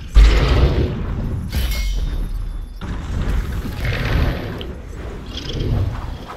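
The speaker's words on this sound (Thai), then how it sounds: "โอ้โหมันมีดักระเบิดด้วยนี่" A bomb trap goes off in Century: Age of Ashes, with a sharp booming blast at the start followed by rumbling, clattering debris and scattered thuds over game background sound.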